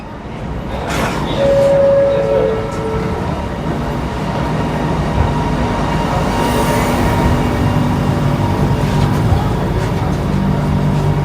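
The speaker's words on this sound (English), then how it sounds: "It does look like it's an automated train, which is really cool." An automated metro train runs through Kuala Lumpur with a steady, loud rumble that holds for several seconds. A brief tonal squeal rises near the start over continuous rail noise.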